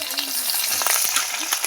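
Onion and capsicum frying with garlic and ginger paste in a pan, a loud close sizzle broken by quick scraping stirs, with no talk.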